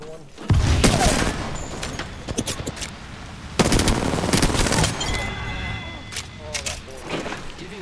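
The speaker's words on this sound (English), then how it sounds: "Shooting at me." Enemy gunfire in a drill-site video game battle: sharp bursts of rapid automatic shots and booming impacts arrive in two heavy volleys, loud and close, with quieter in-game effects between.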